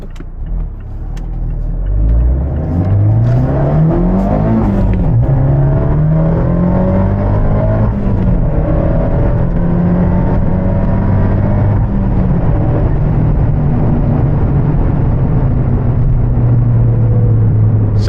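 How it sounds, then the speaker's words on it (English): Abarth 124 Spider accelerating hard in third gear with its tires spinning, a steady loud engine drone rising and falling in pitch across the whole stretch, heard close from inside the car without talk. "we're like spinning tires in third gear"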